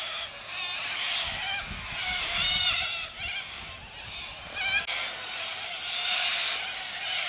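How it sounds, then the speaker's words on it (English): Hundreds of parrots in a tree near Surat, Queensland, by the river raise loud, harsh overlapping squawks and screeches in repeated waves, with no talk. "this is a tree full of parrots"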